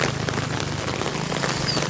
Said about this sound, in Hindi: बारिश इधर भाई घनघोर बारिश हो रहा है।